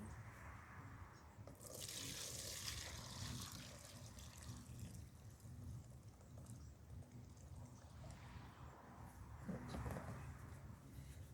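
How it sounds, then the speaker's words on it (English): Garlic soak water is poured off soaking cloves in a faint, steady trickle that splashes a little more in a couple of places. No one speaks. "we're going to pour this garlic soak off and show you what the cloves look like after soaking"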